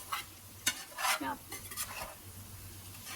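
A spoon stirs cumin-spiced potatoes frying in a pan, giving a string of sharp scraping clinks against the metal over a low, steady sizzle, with several distinct strokes spaced irregularly.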